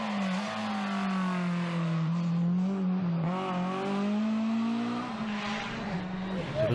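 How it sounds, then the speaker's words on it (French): A BMW M3 rally car in historic livery drives hard at a Belgian rally, its engine holding a loud, steady note and rising and falling through gear changes close by. "Robin Maas a de nouveau sorti sa belle M3 dans ses couleurs historiques."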